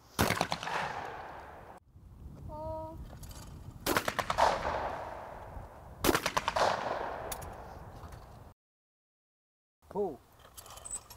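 Gunfire from a youth shooting program outdoors comes in a few loud, sharp bursts with decaying echoes, separated by quieter gaps and a brief silence.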